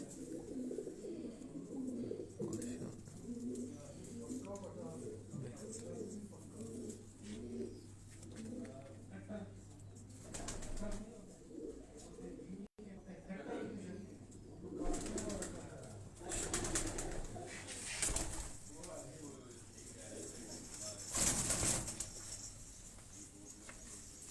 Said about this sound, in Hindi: ये हमारे लोकल यानी कोयटा के कबूतर हैं।